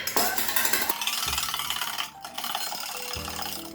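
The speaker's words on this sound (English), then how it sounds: "we're just gonna whisk our egg white" Egg white being beaten by hand with a metal whisk in a bowl, a dense, continuous rapid clatter and swish that runs without pause, close and fairly loud.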